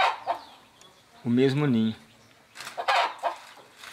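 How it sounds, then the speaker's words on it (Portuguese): Hens brooding eggs together in a single nest on a small farm give a short, close, tonal clucking call of under a second, with people talking before and after it. "Duas galinhas chocando, ó,"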